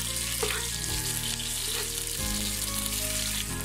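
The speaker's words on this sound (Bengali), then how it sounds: "পেঁয়াজটাকে আমি একদম কড়া করে ভেজে নিচ্ছি, মশলাগুলোকে ভালোভাবে ভাজছি।" Onions and spices fry hard in a pan for beef tehari, a steady close sizzle with a few scraping stirs throughout, no voices.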